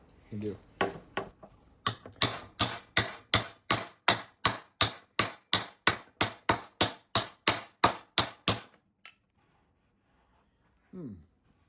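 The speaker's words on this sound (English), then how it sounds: "So we'll use the dinging spoon and a series of hammers." A dinging spoon and hammers strike a vintage GM car fender: about twenty sharp, evenly spaced metallic blows ring out close and loud, then stop, leaving quiet and a brief faint swishing sound at the end.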